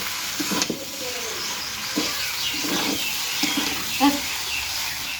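Restaurant-style chowmein sizzling in a hot pan with a steady frying hiss, broken by several clattering strikes and scrapes of a spatula as it is stirred, close and fairly quiet.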